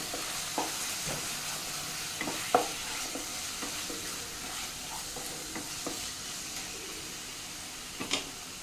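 Chilli powder and salt stirred into tomato paneer pulao masala in a pan, a steady low sizzle broken by repeated light taps and scrapes of a spoon, close and without talk.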